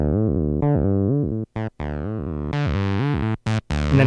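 Behringer TD-3 synthesizer playing a buzzy, distorted bassline with the distortion effect switched on, loud choppy notes with pitch slides and short gaps between phrases.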